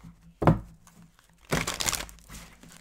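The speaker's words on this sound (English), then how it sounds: "One more shuffle." Tarot cards being shuffled during a zodiac love reading: a sharp papery crinkle and riffle near the start, then a longer rustling burst of cards a second later, close and fairly loud, with no talk.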